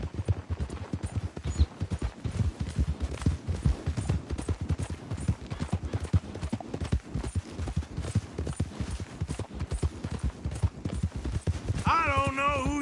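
Horse hooves gallop at a fast, steady clip-clop through a race in Red Dead Redemption 2, close and continuous, with voices talking over the pounding and a musical swell rising near the end.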